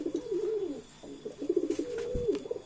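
Racing pigeons coo close by in soft, rolling bursts, two or three throaty phrases in a row, with no talking.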